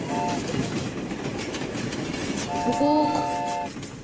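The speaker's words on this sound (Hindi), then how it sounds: "ट्रेन चलती हुई, आगे बढ़ती हुई, छुक छुक करती हुई" A moving train rolls along during a children's quiz show, a steady rumbling chug with a horn sounding briefly at the start and again as a longer blast near the end, fairly loud.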